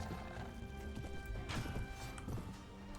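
Horse hooves clip-clopping in the Mount and Blade: Warband video game, Prophesy of Pendor mod; fast, dense hoofbeats with neighing and clashing battle noise, steady and loud throughout.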